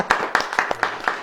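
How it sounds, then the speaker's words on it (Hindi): An audience at a Christian sermon claps in a steady rhythm, with five or six fairly sharp claps spaced evenly over a second and a voice faintly underneath. "ताली बजाएं"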